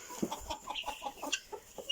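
A rooster clucks in a quick run of short, close calls, with more hen clucking around it in a busy coop.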